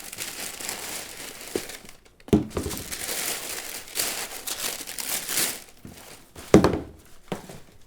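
Speckled box paper crinkles and rustles while a box of navy-and-white Jordan 4 sneakers is opened up close, with sharp crumpling bursts and a couple of louder thunks amid quieter handling noise.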